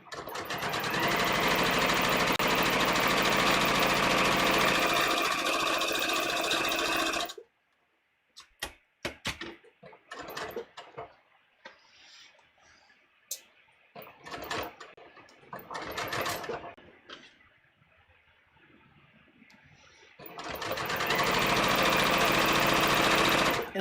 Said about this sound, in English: And as I sew this, when I get to the intersection, I'm just going to back tack there